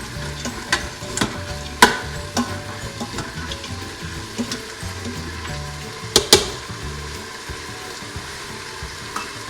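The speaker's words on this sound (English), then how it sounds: "Give it a stir again." Curry of cabbage, peas and cilantro stirred in a pan over heat, a steady sizzle with scattered utensil scrapes and clacks, a few sharper knocks near the middle and late on, no voices.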